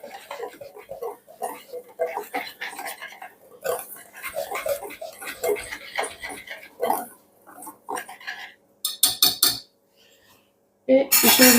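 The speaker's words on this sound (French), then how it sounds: "Je viens remuer." A dry mix of flour, sugar, vanilla and a pinch of salt is stirred in a bowl for a clafoutis, with scattered utensil clinks and scraping, a voice talking throughout, and a sharp rattling burst near the end.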